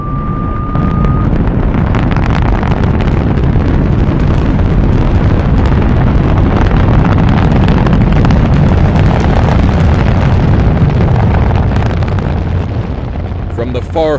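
A rocket blastoff effect from a radio drama roars continuously as a loud, dense, wind-like rush, staying steady for the whole stretch before fading slightly at the end.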